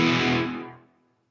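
Guitar played through a NUX MG-400 multi-effects unit, a single bright chord ringing out with reverb and delay tails that smoothly fade to silence within about a second, with no talking.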